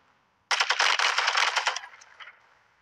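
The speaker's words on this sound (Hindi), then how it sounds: "चल भाई बचते हुए फायर कर" Sustained automatic gunfire from a Call of Duty match, a dense burst of rapid shots starting abruptly and rattling on for over a second before trailing off into scattered echoes.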